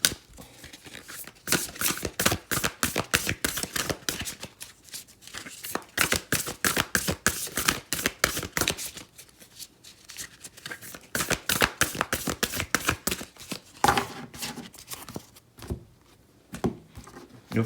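Tarot cards being shuffled for a pick-a-card reading, giving a long run of rapid crisp riffling snaps with a few short pauses, close and fairly loud, no talking.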